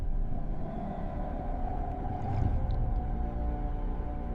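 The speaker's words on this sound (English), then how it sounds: "Sound originates deep in the whale's nasal passages." Sperm whale vocalization underwater, a low droning rumble with a faint rising tonal call in the middle, continuous and muffled with no talking.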